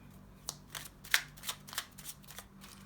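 Tarot cards shuffled by hand in a quiet room, a series of crisp riffling bursts at an irregular rhythm, close and fairly soft.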